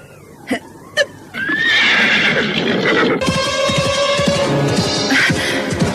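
A horse gives a long, loud whinny close by, rising and trembling over several seconds after a couple of quiet clicks and thumps, with a rough, rattling tail at the end.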